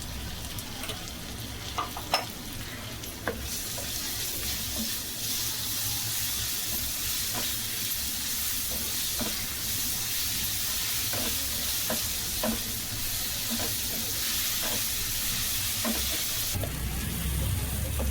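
Ginger garlic paste fries with mint in ghee for a mutton ghee fry, giving a continuous loud sizzle with regular spoon scrapes and taps against the pan and no talking.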